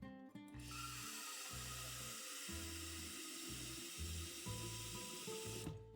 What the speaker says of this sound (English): she fills up the kettle with a glass of water before turning on the heat